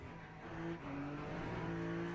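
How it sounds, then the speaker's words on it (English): Peugeot race car engine in Le Mans Ultimate, a steady droning hum holding a few sustained tones that shift pitch slightly, loud and continuous with no talk. "I think the engine sounds are a bit different. Like the Peugeot doesn't really sound the same as before."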